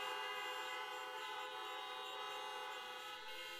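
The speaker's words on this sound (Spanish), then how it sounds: "vamos a dar un bocinazo como expresión de nuestra alegría" A celebratory horn blast sounds at a Catholic thanksgiving Mass marking the start of a university year. It is one long, unbroken, loud tone that holds steady for the entire stretch.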